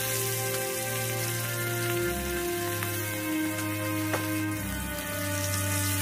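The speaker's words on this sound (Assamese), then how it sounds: "প্ৰথমতে মাছখিনি ভাজি লম।" Bhangon fish fry in hot oil in a wok, a soft, continuous sizzle and crackle sitting beneath steady background music.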